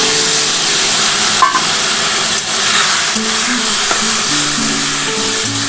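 Steady loud sizzling and steaming from a pan of vegetarian poppy-seed curry with cauliflower stems just after water and poppy paste go in, a continuous hiss with faint clinks of stirring, no talking.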